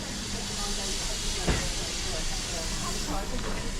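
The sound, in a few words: steam locomotive in British Railways green hissing steam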